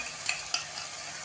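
A spoon stirs Schezwan fried rice mixed with tomato sauce in a hot pan. Soft scraping sweeps sound over a faint steady sizzle, with no talking.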